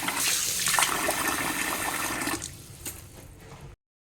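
Mutton trotters (paya) being rinsed under a strong stream of running water, splashing loud and steady before easing into quieter trickling and swishing near the end.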